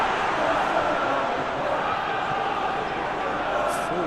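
Stadium crowd noise from PES 21 football game, a steady dense roar of spectators reacting to a tackle, continuous and loud throughout with commentary-like voices mixed in.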